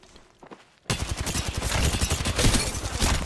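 Rapid automatic gunfire in the Apex Legends video game, a sudden loud burst after a brief quiet moment that continues as a dense, sustained rattle of shots.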